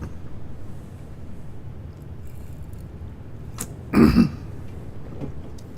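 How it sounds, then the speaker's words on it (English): A congested person coughs once, a short rough throaty burst standing out against a low steady background hum. "I got a little bit of a cough with congestion"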